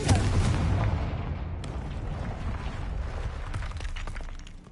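The Confringo fire spell from Hogwarts Legacy goes off as a loud, rumbling explosion whose broad blast fades into a long crackling, debris-filled decay.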